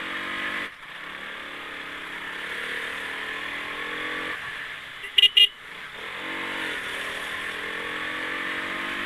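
A modified Yamaha R15 V4 motorcycle being ridden gives a steady, even engine drone throughout, broken by two short horn-like beeps midway, with no talking.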